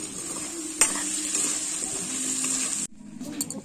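Fish head and cabbage curry stirred in a pan while it fries, a steady bright sizzle with a couple of clinking stir strokes, then a sudden drop to quieter sizzling.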